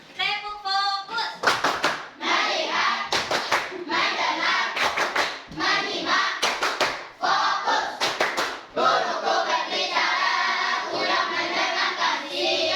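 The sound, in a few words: class doing rhythmic focus clapping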